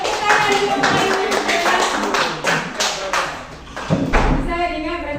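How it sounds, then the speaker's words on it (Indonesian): A group of children claps for a classmate named Marina in a classroom, a loud, brisk run of hand claps lasting several seconds, mixed with children's voices. "Tepuk tangan untuk Marina."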